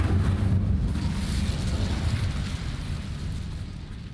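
Incendio fire spell erupting in the Hogwarts Legacy video game, a loud sustained fiery roar with heavy low rumble and windy burst texture that tapers slightly over about four seconds, with no talk.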